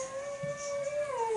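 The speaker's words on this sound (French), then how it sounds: "c'est mon chien qui rêve." A sleeping dog dreams aloud, letting out a thin, wavering howl that slides down in pitch for about a second, close and alone without talk.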